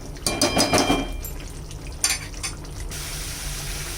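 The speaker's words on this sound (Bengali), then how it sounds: "এখন দিয়ে দিলাম আলুগুলো" Fried potatoes tumble into a pot of simmering chicken curry with a clatter and splash, then a few more metal knocks against the pot and a soft bubbling background.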